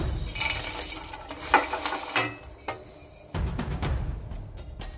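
Poha, peanuts and curry leaves, already fried, stirred in a pan with a spoon: scraping, rustling, faint sizzle and a few sharp clinks of metal on the pan, close and steady, no talk.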